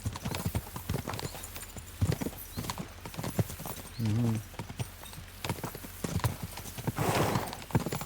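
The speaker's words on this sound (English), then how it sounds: "We should spur the horses on!" Horses gallop in the video game Kingdom Come: Deliverance II, with dense, continuous clip-clopping hooves close by, a brief neigh partway through and a scrap of voice near the end.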